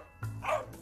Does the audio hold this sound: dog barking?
yes